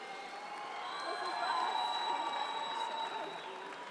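Applause swells from the audience at a live arts awards ceremony in a hall, a broad wash of clapping mixed with crowd cheers and whoops that builds in the middle and then eases, heard at some distance.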